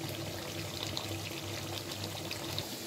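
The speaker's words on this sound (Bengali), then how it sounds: "মাংসটা আমার কষানো হয়ে গেছে, এখন আমি ঝোল দিয়ে দেব।" Broth poured into goat meat that has been slow-fried in spices, making a steady continuous pouring and splashing rush that runs unbroken and close-up for the whole stretch, with no voices.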